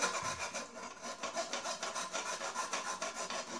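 Filing or rasping the cut edges on a metal Razor E300 scooter frame, a steady close back-and-forth scraping rhythm of roughly four strokes per second, with no voices.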